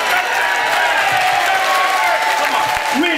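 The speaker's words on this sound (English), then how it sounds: "Give him a round of applause, guys." A festival crowd at the Woburn Sands Chilli Festival eating contest final applauds and cheers a contestant. The clapping is steady, loud and close, with whoops and voices running through it.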